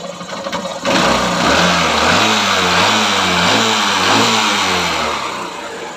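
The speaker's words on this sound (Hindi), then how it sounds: "हमने रेस को छोड़ दिया और बाइक बिल्कुल स्टार्ट है" A Honda Shine motorcycle engine keeps running after the throttle is released, a loud close steady hum settling from a brief rev into an even idle that holds without stalling.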